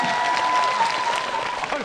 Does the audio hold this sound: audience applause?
yes